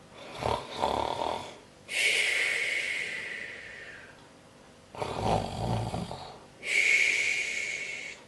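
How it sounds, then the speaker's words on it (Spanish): A sleeping person snores loudly and close, two long rasping inhale-exhale cycles with short snorts, heard alone. "Tela no respondió más que con ronquíos"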